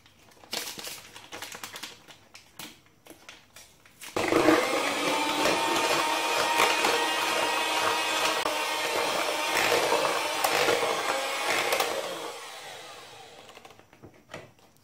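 Electric hand mixer beating sugar into marble cake batter, starting after a few seconds of light handling noise and whirring steadily and loudly for about eight seconds before cutting off.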